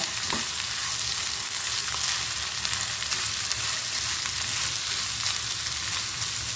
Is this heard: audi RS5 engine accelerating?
no